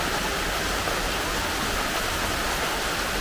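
Heavy rain pours steadily in a dense, even hiss with no breaks, loud and close, filling the whole span with no voices.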